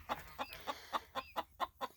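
Hens cluck in a steady series of short, rhythmic bursts, close by and fairly quiet, with no voices.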